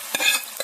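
A tempering of fenugreek, mustard seeds, curry leaves and a dried red chilli is stirred into fish curry in a pan, giving a brief soft sizzle with two quick scraping strokes of the spoon.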